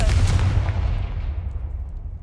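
Confringo blasting spell cast in Hogwarts Legacy, a single heavy booming blast up front that rumbles and fades away over about two seconds.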